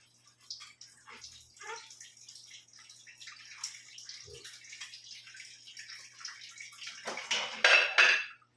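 Tap water runs and splashes while dishes are washed, with occasional soft clinks of plates, building to a louder gush of water near the end.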